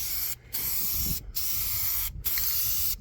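Four bursts of Rust-Oleum aerosol spray paint hiss close by, each long and steady, separated by short pauses, outdoors in wind.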